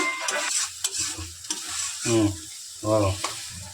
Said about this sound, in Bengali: এখানে মশলা কষানো চলছে মাংস হবে এখন তার জন্য এই টমাটম দেওয়া হলো